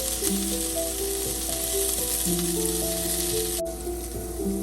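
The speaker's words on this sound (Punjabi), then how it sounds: "5 ਮਿੰਟ ਹੋ ਗਏ ਜੀ ਇਹਨਾਂ ਨੂੰ ਕਰੇਲਿਆਂ ਨੂੰ ਭੁੱਜਦਿਆਂ ਨੂੰ" Bitter gourd (karela) roasting in a kadhai over a medium gas flame: a steady, continuous sizzle runs unbroken throughout, with faint sustained tones in the background.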